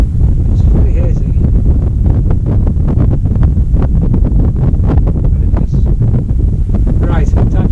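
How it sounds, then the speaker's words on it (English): Strong wind buffets the microphone on an exposed fell top in the Bewcastle Fells in February, a constant loud roar and rumble with gusts, and a voice speaks faintly underneath. "So it's a bit blowy up here, I don't know if you can hear us."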